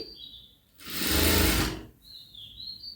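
A sewing machine runs in one short, loud burst of about a second as a sleeve is stitched, with quieter high, faint noises before and after and no speech.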